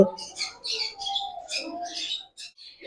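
Black cockatiels and other pet birds, among lovebirds and conures at a bird sale, chirp in rapid, repeated bursts close by, with a voice talking underneath.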